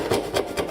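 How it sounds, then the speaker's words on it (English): A keyhole saw cuts a hole through material in three quick rasping strokes, close and fairly loud, with no voices. "I'm also using a keyhole saw as well"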